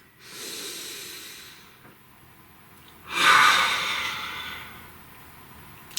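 Two slow, deep breaths drawn close to the microphone: a long airy inhale, a pause, then a louder, fuller breath that trails off gradually, with no talking.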